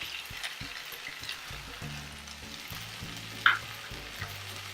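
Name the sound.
stirring okra with red chilli powder in frying pan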